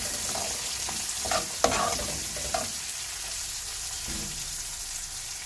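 Chopped onions sizzle and fry in a pan for a taro (chembu) curry, with a few clear scraping stirs of a spoon against the pan over a steady, close hiss. No one speaks.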